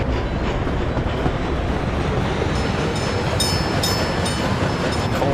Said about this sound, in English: Listen to this smooth fuel train go by